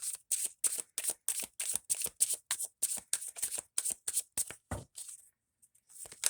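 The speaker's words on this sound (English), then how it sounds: "Let's pull some of these Sacred Healing Journey cards" Sacred Healing Journey oracle cards being shuffled by hand, a quick, steady run of crisp riffling flutters repeated close up for several seconds before a short pause and one final riffle.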